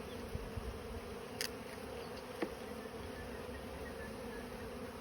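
Honey bees droning steadily around an opened hive during a March inspection in Australia, a dense close buzz with a few faint clicks and taps from hive handling.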